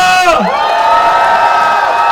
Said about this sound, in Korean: 더 큰 박수와 함성